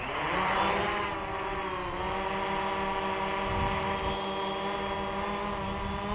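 A DJI Mavic Pro drone taking off from its home point and hovering at head height, a steady high-pitched propeller whine that stays loud and close throughout.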